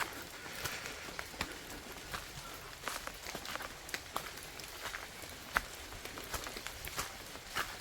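Light rain patters on the ground in a forested rural setting in Laos, a soft, scattered drizzle with irregular drops and faint rustling, steady and fairly quiet, with no talking.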